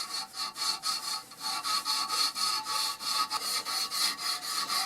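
Abrasive tape rubs back and forth over a scratched, rounded bicycle brake lever head, a quick rhythmic rasping stroke repeated about a dozen times, close and steady with no talk.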